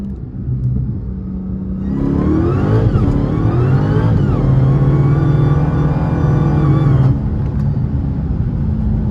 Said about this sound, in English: He's got a HELLCAT motor in there. I heard it.